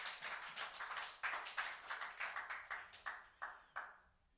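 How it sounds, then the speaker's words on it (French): A church congregation claps during a sermon, starting as a quick scattered patter that slows into a handful of distinct, fairly close claps before fading out. "Clap for that."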